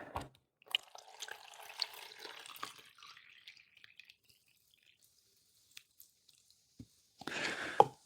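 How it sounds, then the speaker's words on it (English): Water trickles and splashes into a container of dog kibble for several seconds, then goes quiet apart from a few drips, before a final burst of pouring. "I'm going to fill that whole container with water."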